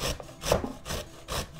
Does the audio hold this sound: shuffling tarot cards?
no